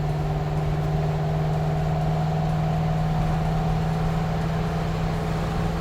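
An LS-swapped Chevrolet C10 truck with a 4L60E automatic transmission drives steadily up to speed, its engine holding a constant droning hum from inside the cab.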